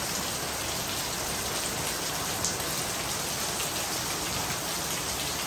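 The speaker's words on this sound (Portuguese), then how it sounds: "Chuva." Heavy rain pouring steadily in Guarujá, a dense, even hiss of drops on surfaces, loud and unbroken throughout with no voices.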